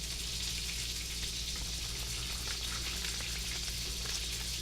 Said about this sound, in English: I hear those sizzling, so I need to go over and do something about them.